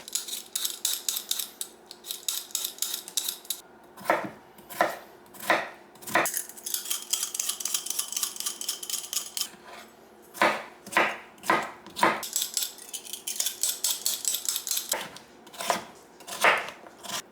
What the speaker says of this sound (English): we need to chop up the bacon